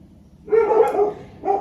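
A dog barks a couple of times outdoors at moderate distance, a short yelping bark followed by a second quicker one.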